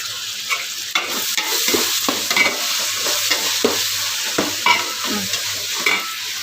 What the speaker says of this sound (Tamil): இஞ்சி பூண்டு போட்டு நல்லா வதங்கினதுக்கப்புறம் தக்காளி சேர்த்து வதக்கணும்